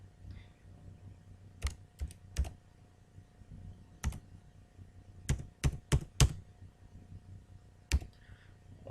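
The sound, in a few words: typing on a computer keyboard, entering PAN card number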